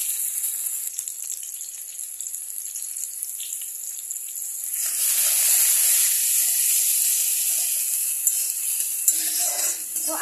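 Onion and tomato sizzle in a pan while being stirred, a steady close hiss that swells louder midway and continues with scraping movement.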